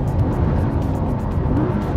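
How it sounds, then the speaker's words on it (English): A Lamborghini Huracán supercar on its first lap around a race track, the engine roaring loud and continuous as it accelerates, heard from the cabin without speech. "We're off on our first lap, we'll see what we can get."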